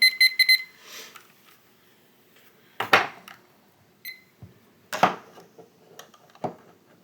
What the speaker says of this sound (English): Do not stop talking until you hear the timer ring.